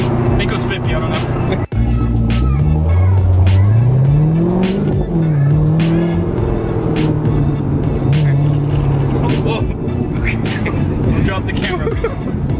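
A Chevrolet Corvette accelerates hard nearby, its engine note climbing and sweeping through gear changes, with tire noise, over a loud continuous roar while people talk and exclaim.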